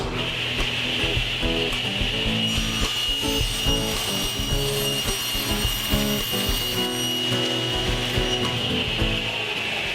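A saw rips plywood into shelves for a bookcase, a steady loud whining drone with a rough cutting texture running continuously throughout.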